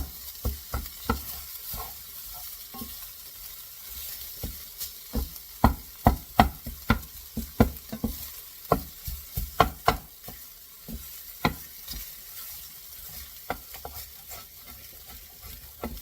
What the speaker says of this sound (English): I'm scraping you wouldn't want to scrape your nonstick with metal because you will scratch it.